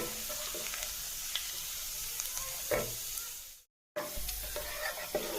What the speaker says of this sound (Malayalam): നല്ല പോലെ ഇളക്കിയിട്ട് നമുക്ക് ഒരു മിനിറ്റൊക്കെ ഒന്ന് ഇളക്കി ഇതിൻ്റെ കളറൊന്ന് മങ്ങുന്നവരെ ഒന്ന് വെയിറ്റ് ചെയ്യണം.